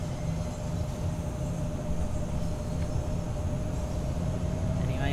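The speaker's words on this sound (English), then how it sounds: "We can even hear trains going past." Steady, continuous rumble of trains running through a rapid transit tunnel in Train Sim World 2, a dense low roar with a faint sustained whine above it, holding constant throughout with no voices.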